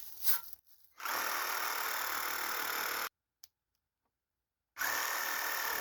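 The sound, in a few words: reciprocating saw (Sawzall) cutting out pallet slats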